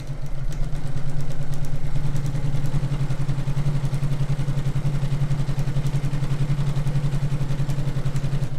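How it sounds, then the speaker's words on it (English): A sewing machine runs steadily along a quilt seam for an hourglass star block, giving a fast, even mechanical whir with a rapid stitching pulse that stays close and loud. "I can flip it around and sew back down on the other side."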